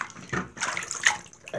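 Shower water splashes and runs in short irregular bursts, close and choppy, with gurgling spurts and brief gaps between gushes.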